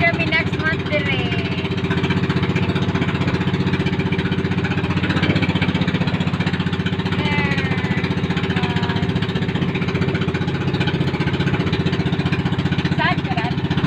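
A boat engine runs steadily with a constant loud drone on a trip to Gilutongan Island in Cordova, Cebu, while voices talk over it.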